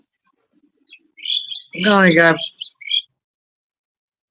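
An Indian myna gives a few high chirps and whistles while someone speaks briefly over the middle of the calls, outdoors and close by.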